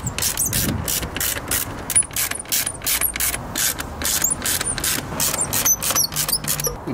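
A ratchet driver with a T25 Torx bit clicks rapidly and steadily, close and crisp, undoing screws on the air filter housing of a W212 Mercedes E63 AMG.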